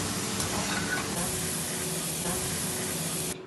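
Sliced garlic frying in hot oil in a pan, a steady loud sizzle and hiss that runs unbroken for several seconds before cutting off sharply near the end.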